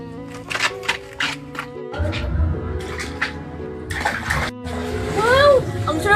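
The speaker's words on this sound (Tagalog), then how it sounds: "Ang sarap naman dito maligo sa swimming pool ni Angel!" Water splashes and sloshes in a swimming pool amid lively, playful voices and chirpy effects, the wet churning growing louder toward the end.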